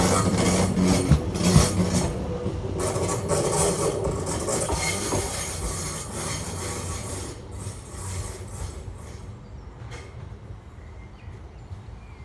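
A pair of West Midlands Railway Class 730 electric units pulls out of Barnt Green station, wheels rumbling and clicking over rail joints with faint squeals, the sound loud at first and slowly fading as the train moves away.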